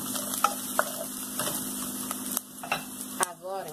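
Garlic sautés in a pan for a chayote and ground beef gratin, giving a soft, steady sizzle with scattered ticks and scrapes of stirring, while someone talks over it at a modest level.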